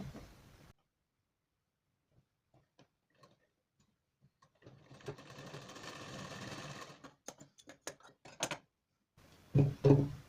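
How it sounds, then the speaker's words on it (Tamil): A sewing machine stitches a blouse piece in short whirring bursts separated by near silence, with soft ticking clicks in between; fairly quiet and close. "மேல் பக்கம் பீஸ் வச்சு ஒரு தையல் ஒன்று போட்டோம்"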